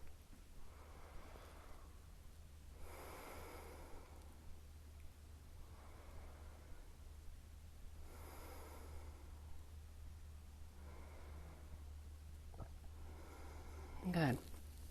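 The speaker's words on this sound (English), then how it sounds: "Full deep breathing." Slow, deep breaths during a short fire-element yoga practice, broad airy swells of inhale and exhale returning every few seconds over a steady low hum, close and soft, followed by a brief sharper sniff near the end.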